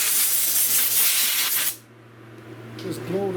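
Compressed air blasts in a loud, steady hiss while blowing dust off a 1970 Buick Wildcat dash after a super glue and baking soda crack repair, cutting off sharply midway before a voice speaks faintly.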